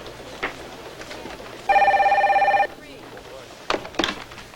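An office telephone rings once in a short burst of rapid electronic trilling, close and clear, with scattered knocks and faint room noise around it.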